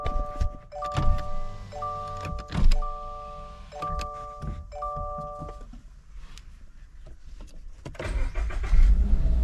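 Cold start of a 2024 Subaru BRZ sitting in a hot car: a series of repeating electronic chime tones sound first, then a low engine rumble swells up near the end and keeps running.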